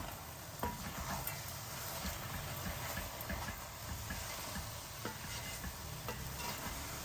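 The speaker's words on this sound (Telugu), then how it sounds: "ఇప్పుడు దీన్ని ఒక్కసారి కలుపుకుందాం" Gongura curry being stirred in a frying pan, a low continuous sizzle and scraping that stays steady and fairly quiet throughout, with no talking.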